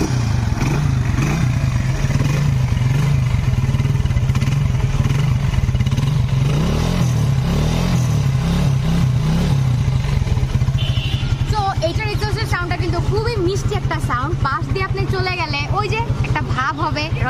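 Exhaust of a Lifan Victor-R cafe racer motorcycle, a steady low idling thrum with a rapid pulsing beat that runs the whole time, under someone talking.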